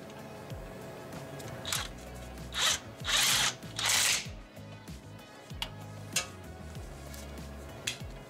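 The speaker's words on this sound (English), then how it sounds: "go ahead and use your impact and tighten up all the bolts" Short bursts from an impact wrench with a 15mm socket tightening the three wheel hub bolts on a Cadillac Escalade during front brake work, several loud rattling pulses in a row amid scattered clanks of tools.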